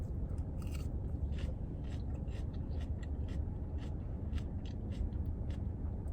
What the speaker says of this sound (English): pardon my chewing, pardon my eating.